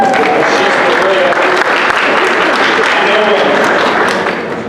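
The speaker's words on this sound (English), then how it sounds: "Let's give her a round of applause." A crowd at a 2014 Asian community public policy forum applauds steadily for several seconds, loud and sustained clapping that fades slightly at the end.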